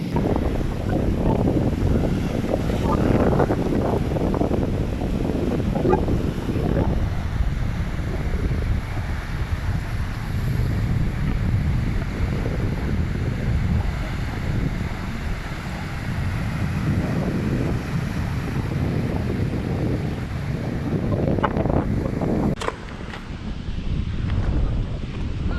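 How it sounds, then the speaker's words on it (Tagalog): Strong wind buffets the microphone at a seashore, with ocean waves rolling underneath in a steady, loud roar that continues the whole time and drops slightly near the end. "Lakas ng hangin."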